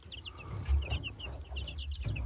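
Barnyard-mix chicks and two heritage turkey poults peep and cheep under a brooder plate, a steady stream of soft, high chirps over a low background rumble.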